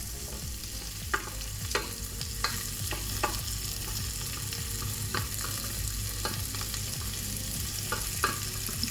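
Vegetarian bacon frying in a pan and stirred, a loud, constant sizzle broken by repeated sharp scrapes and clacks of a utensil at irregular intervals, close up with no talking.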